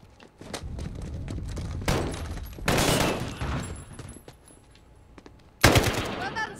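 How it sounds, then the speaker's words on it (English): Gunfire in Call of Duty: Modern Warfare's campaign comes in several loud bursts of automatic fire separated by quieter gaps with footsteps and shuffling, the last burst sharp and close. "Point and shoot until they fall."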